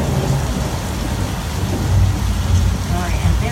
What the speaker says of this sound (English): The rain is being created by overhead sprinklers that shoots the water straight up, so it falls down to earth naturally on film.